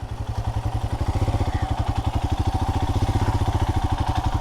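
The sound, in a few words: Himalayan motorcycle riding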